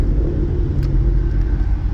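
Ford Mustang 5.0 downshifting through paddle shifters, a steady close engine rumble filling the cabin with a brief rev blip midway, no talking.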